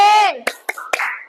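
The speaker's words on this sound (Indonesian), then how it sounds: "Beri tepuk wow." A classroom of students gives a rhythmic cheer: a loud drawn-out vocal call followed by a few sharp, spaced claps mixed with short shouted syllables, close and clear.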